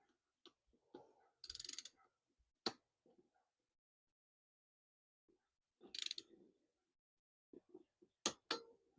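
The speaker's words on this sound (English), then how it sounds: "Once you hear that click, it is torqued." A torque wrench snaps with a few sharp, separate clicks as a valve cover bolt reaches torque, quiet and close amid soft handling noises and long silent gaps.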